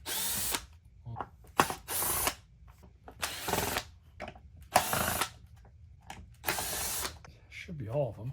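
A power drill backs out perimeter screws from a Bissell Pet Hair Eraser Turbo Rewind vacuum's sole plate in short, sharp whirring bursts separated by brief pauses and small clicks of handling.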